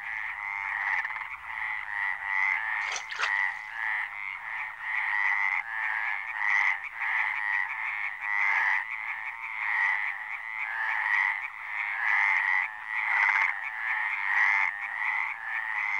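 A dense chorus of stripeless tree frogs croaking continuously in central Spain, many overlapping rasping calls pulsing together with no talking.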